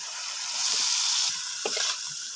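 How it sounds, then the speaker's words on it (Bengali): Fried potatoes and fried snail pieces go into hot oil for a curry and sizzle with a loud, steady hiss, with a brief stirring clatter near the end. "এবারে তেল ছেড়ে দিয়েছে, এবারে আলু ভাজা আর গেরি ভাজাটা দিয়ে দেবো।"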